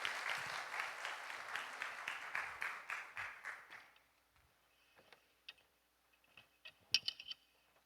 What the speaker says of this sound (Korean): 우리 박수로 우리 권사님 오십니다.